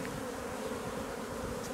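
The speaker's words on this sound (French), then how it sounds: "les jeunes abeilles elles font leur vol d'orientation, donc elles sortent, elles repèrent la ruche" Young honeybees on their orientation flight near the hive make a steady, dense buzzing hum from many insects circling together, continuous and moderately close, with no talking.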